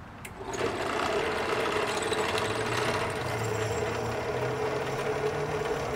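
A drill bit grinding into hardened steel plate under heavy hand pressure gives a steady, loud whirring drone that starts after a brief click and holds without pause.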